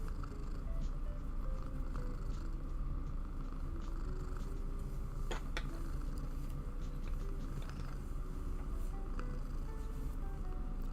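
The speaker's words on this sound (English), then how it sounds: "can you guys hear her just like purring into the microphone?" Cat purring right into a close microphone, a continuous low rumbling drone that stays steady and loud throughout with no pauses, alone with no speech.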